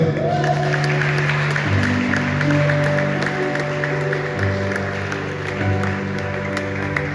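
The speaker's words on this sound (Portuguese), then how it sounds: "Você que pode, aplauda o Senhor." A church congregation claps for the Lord during a sermon, a broad spread of applause running continuously over sustained keyboard-like musical tones.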